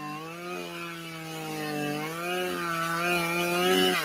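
A chainsaw runs steadily in a radio ad, a loud continuous buzzing drone that rises slightly in pitch and holds, alone without talk.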